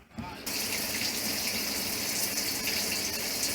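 Water spraying steadily inside an RV shower with a drain under repair, a continuous close rushing hiss after a brief quieter start, with no break.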